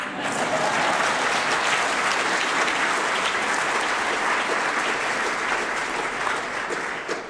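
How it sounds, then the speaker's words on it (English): Sustained audience applause fills a hall at an Order of Canada investiture ceremony, a dense, even wash of many hands clapping at full strength throughout before easing slightly at the very end. "I think that's worth an applause."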